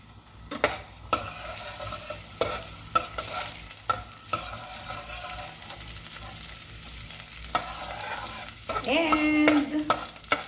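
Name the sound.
garlic sautéing in pan for chicken tinola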